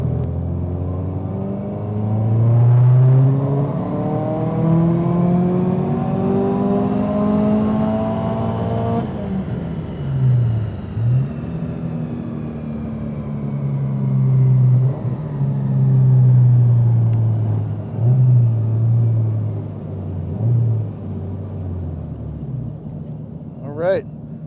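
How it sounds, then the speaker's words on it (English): A Subaru STI on E85 with a new turbo, new injectors and an Access Sport V3 revs hard through a dyno pull. The engine note climbs steadily, drops back, then surges again, loud and close, with voices talking over it. "we're getting ready to do a dyno pull on E85 with the new turbo, new injectors, new Access Sport V3"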